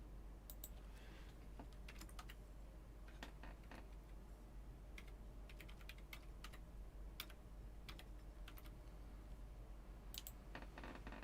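Quiet keyboard typing in irregular bursts of clicky keystrokes, close by, with short pauses between runs over a low background hum.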